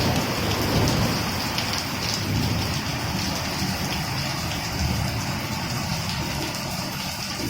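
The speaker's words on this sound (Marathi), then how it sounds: "पावसाने बघा सुरू केले आता कधी थांबणार आहे माहीत नाही गडगड आवाज येतो" Heavy monsoon rain lashes down in a loud, continuous roar, with low rumbles of thunder rolling underneath. No voices break through the downpour.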